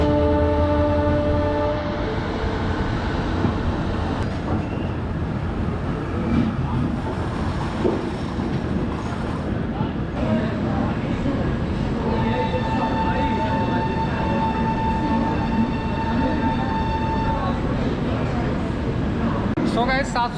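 Lichchavi Express passenger train running on the rails in India toward Kanpur Central, a steady loud rumble of wheels and carriage noise throughout, with a long horn tone sounding from about 12 to 17 seconds and voices chattering underneath.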